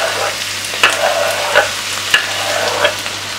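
Onions and peppers sizzling in a frying pan, a loud continuous hiss with several distinct stirring clatters spaced about a second apart, close and without speech.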